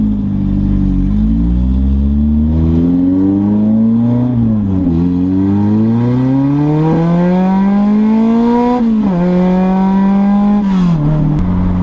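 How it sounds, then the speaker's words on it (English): A 1991 Honda CRX accelerates hard in second gear, its engine note climbing steadily in pitch through several surging pulls with brief dips, loud and close throughout with no voices. "So I'm gonna go for a little rip, see how it feels in second gear."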